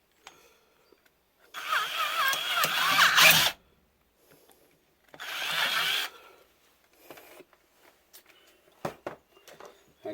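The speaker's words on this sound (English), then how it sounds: "So I'm going to re-drill it out" A power drill bores out a stuck cartridge case lodged in a reloading die, whirring in two close bursts of about two seconds and one second, followed by scattered clicks and handling noises.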